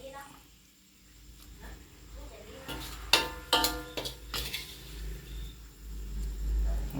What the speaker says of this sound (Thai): น้ำพริกลาบใส่หม้อเลยครับคนยำนะครับ